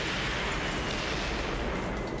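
Explosions and gunfire from the video game Devil's Third form a dense, continuous, loud roar of blasts with no pauses and no voices.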